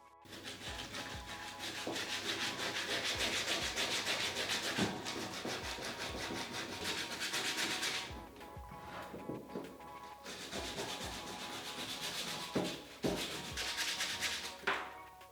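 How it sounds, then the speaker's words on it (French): Wood being sanded by hand to smooth it: steady, rhythmic rubbing strokes run close and continuous, pause briefly around the middle, then resume with a few sharper scrapes. "Pour sublimer mon bois et le rendre plus lisse, je le ponce."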